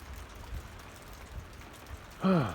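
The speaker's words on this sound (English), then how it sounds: "listen to the rhythm of the falling rain" Steady afternoon rain on a windy day makes a soft, continuous patter of drops that stays even throughout, with a short voiced tonal call rising briefly near the end.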